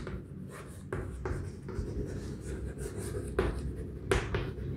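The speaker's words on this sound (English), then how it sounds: "let me write over it" A pen or marker writes notes during a physics lesson on electric charge, quiet scratchy strokes in short bursts with occasional sharper taps, close and alone without speech.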